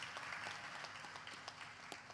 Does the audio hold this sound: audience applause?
yes